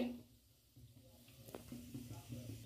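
Asafoetida (hing) frying in a little oil in a wok, a soft, steady low sizzle that holds faintly throughout with a few small crackles.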